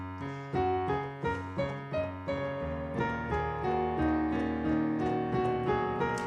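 A piano plays an unbroken run-on improvised phrase with no pauses, a beginner's steady stream of notes over low held chords, close and moderately loud with no talk.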